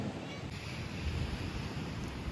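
Sea waves washing in at a seafront promenade by a beach and pier, a steady, close rushing wash mixed with wind noise on the microphone.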